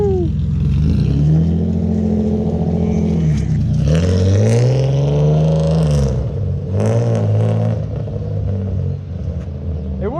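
A BMW E30 drift car engine runs loud and close, idling with a rattly clatter, then revs up in two rising sweeps that fall back to idle, with a faint voice now and then.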